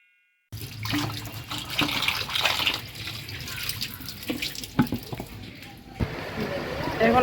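Mangoes are washed under a running tap, a continuous splashing stream with clunks of fruit handling, and voices talk over the water.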